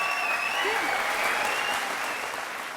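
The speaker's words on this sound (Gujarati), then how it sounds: "આ લોકોની તાળીઓ સાંભળીને લાગે છે" A studio audience on a television courtroom show claps steadily, a dense, even wash of applause that holds throughout and fades slightly at the end.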